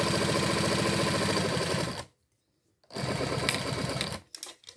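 A sewing machine stitches a plastic magazine folder with faux leather trim, running in a fast, loud, even whir, then stopping for under a second before starting again and slowing near the end.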